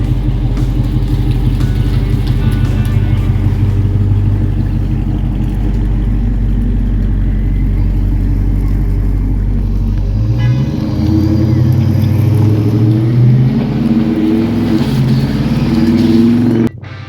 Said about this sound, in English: We're going for a ride in the SRT 392